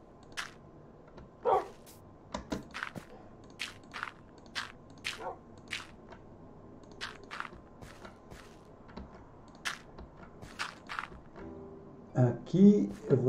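A pack of dogs barks in short sharp bursts scattered across the scene, some near and some farther off, with footsteps and crunching in between and someone speaking at times.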